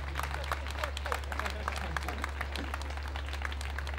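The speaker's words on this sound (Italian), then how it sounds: "un applauso fortissimo sia al presidente che al vicepresidente" Crowd applause at a Notte Rosa beach party at Lido delle Nazioni, moderate clapping over a steady low hum with voices mixed in.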